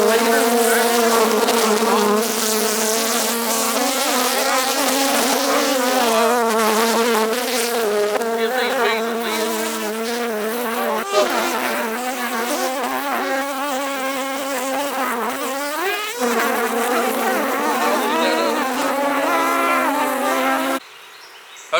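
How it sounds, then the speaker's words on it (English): Honey bees at a hive buzz right against the microphone, a loud, dense, wavering drone with shifting pitch that fills the whole stretch before cutting off abruptly near the end. "the bees were all over the mic"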